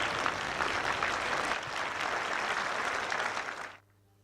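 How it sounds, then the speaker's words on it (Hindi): Audience applause at a stage event, a dense, steady clapping from a crowd that holds for several seconds, then cuts off abruptly into quiet hum. "हमारी नन्ही मुन्नी रिया के लिए एक बार प्यार भरी तालियों के साथ स्वागत कीजिए।"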